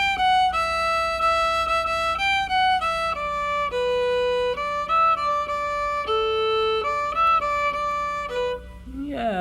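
Fiddle plays the B part of a tune with separate unslurred bow strokes, a clear melodic line of distinct notes, close and moderately loud, with a faint low hum beneath and a brief sliding sound at the end.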